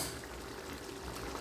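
Tomatoes simmering and cooking down in a pan for tomato thokku, their skins softening in the juice, giving a steady, soft bubbling sizzle that stays even throughout with no talking.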